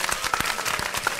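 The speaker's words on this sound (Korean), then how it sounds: "우리 구테스 총장님께 다시 한번 열화와 같은 박수 보내주십시오" A crowd at a youth event applauds UN Secretary-General Guterres, a short, dense patter of clapping from many hands, fairly close and even.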